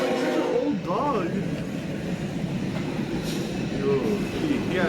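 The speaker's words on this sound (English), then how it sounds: "That train's going so fast, too." A train rumbles past at speed with a steady roar and metallic squeals, while people talk over it.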